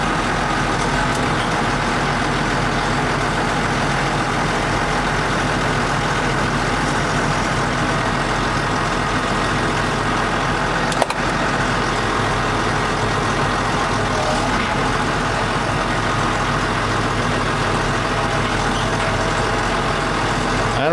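A tractor engine runs steadily up close in a New Zealand garden, a continuous low rumbling drone with no breaks across the whole stretch.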